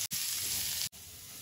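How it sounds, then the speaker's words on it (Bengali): Sliced bitter gourd frying in leftover fish-frying oil with salt and turmeric, giving a steady close hiss of sizzling that is briefly broken by two sharp cuts. "মাছ ভাজার তেলে উচ্ছেটা ভেজে নেব।"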